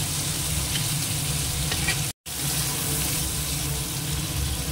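Large shrimp frying in a pan, pressed down, a steady loud sizzle and hiss that cuts out for a moment before continuing.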